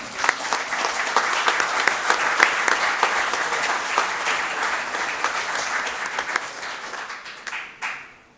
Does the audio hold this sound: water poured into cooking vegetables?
no